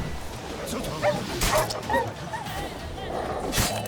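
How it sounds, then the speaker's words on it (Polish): Dogs in The Witcher 3, in the Velen region, yip and bark in a few short bursts, with a whimpering note, over steady game ambience. "Ty, oni mają psy."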